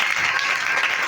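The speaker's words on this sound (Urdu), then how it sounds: "اس کے لیے تالیاں بجا دیں" Dense applause from an audience at a religious lecture on Jesus Christ, a steady wash of many hands clapping close and loud throughout the short burst, with no talk over it.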